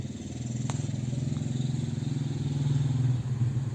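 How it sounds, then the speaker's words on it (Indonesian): A motorcycle engine drones steadily nearby, its low hum swelling slightly as it passes, with a brief clatter partway through. "Ada motor."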